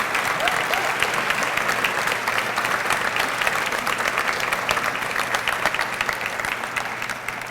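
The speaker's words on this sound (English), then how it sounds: "Let's have a big round of applause for all of our 20-year recipients." An audience at a public schools employee retirement and recognition ceremony claps loudly and continuously for twenty-year service recipients, a thick, even wash of applause with no pauses.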